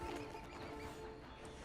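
A horse in the video game Red Dead Redemption 2 whinnies and snorts close by, with faint hoof clops beneath a low steady outdoor ambience.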